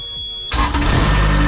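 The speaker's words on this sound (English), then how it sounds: "The beep is to let you know it's gonna kick off." A refrigeration unit on a truck trailer gives a steady high beep, then its engine cuts in abruptly, and a loud continuous running rumble follows and holds.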